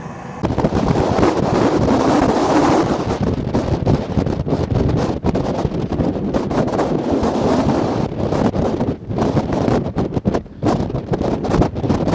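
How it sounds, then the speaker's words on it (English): Wind and ocean waves heard from the low third deck of an icebreaker on a High Arctic voyage: a loud, steady broadband rush of wind buffeting the microphone, with surging water beneath, continuous and unbroken throughout. "You can just sit here and watch the waves."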